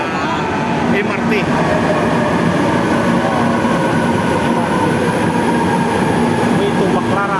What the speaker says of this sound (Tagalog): This is the MRT.